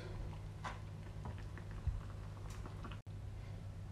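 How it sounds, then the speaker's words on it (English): Creamy garlic chicken simmers in a pan with soft, scattered bubbling and faint pops over a steady low hum, close and quiet, with no talking. "we're just going to let that simmer away for about 10 minutes"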